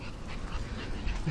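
A tired pug whimpers softly outdoors in a park, a faint, brief, thin whine close by with no talking.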